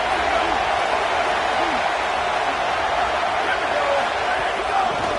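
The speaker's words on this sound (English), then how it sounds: "Decibels rising as the crowd gets behind this defense on 3rd down." Stadium crowd roaring loudly and steadily for the defense on third down at a football game, a dense continuous wall of cheering with no quiet gaps throughout.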